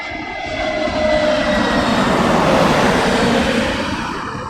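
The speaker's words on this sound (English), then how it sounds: "A380 inbound" An Airbus A380 arriving at London Heathrow, its engine roar swelling to a loud broad rumble and then slowly easing as it passes.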